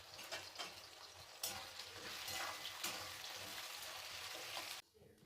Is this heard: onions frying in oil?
yes